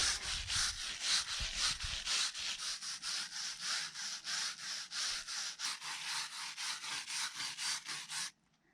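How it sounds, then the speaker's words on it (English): Scrubbing debris off a cement pool wall: a brush rasps in a steady back-and-forth rhythm of about two dozen strokes, close and crisp, ending abruptly, with no talking. "I definitely know I don't want debris on the wall, so I really need to give it a good scrub first"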